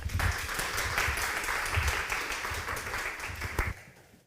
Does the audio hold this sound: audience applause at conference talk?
yes